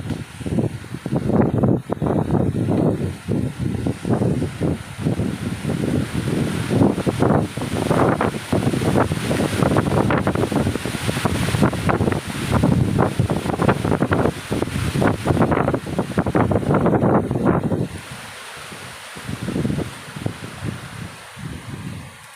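Strong wind gusts sweep across an open village area in Purworejo, Java, during a rubbish burning, roaring and buffeting the microphone in repeated loud surges before easing off near the end.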